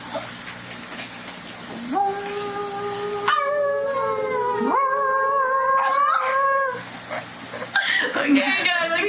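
A person imitates a sad dog howling with several long, wavering, rising and falling wails, close and fairly loud, with short breaks between them.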